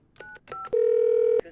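A phone line to an interpreter service is dialed: several short touch-tone beeps sound close and clear, followed by one longer sustained tone.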